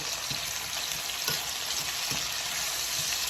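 Food sizzles steadily in a hot frying pan while a utensil stirs it, soft scraping knocks recurring roughly every second over the constant close frying hiss.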